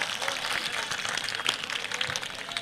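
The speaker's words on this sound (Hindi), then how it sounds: "जरा एक बार दिल खोल के तालियों से स्वागत कर दीजिए हमारे हबीब मिल्लत का।" A rally crowd claps steadily to welcome Akbaruddin Owaisi on stage at an AIMIM election gathering in Rajasthan, a dense, even patter of many hands at moderate loudness.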